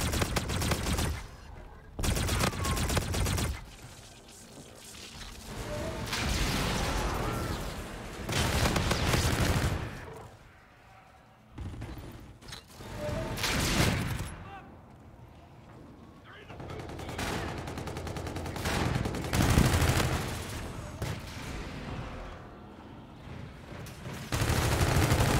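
Repeated bursts of automatic gunfire from a weapon in Call of Duty: Infinite Warfare, loud and close, arriving in clustered volleys with short lulls, under intermittent game sounds and some talking.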